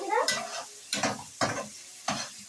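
Sausage frying in a pan with onion, garlic and pepper gives off bursts of sizzling and stirring scrapes in four separate pulses, close and fairly loud, with no talking.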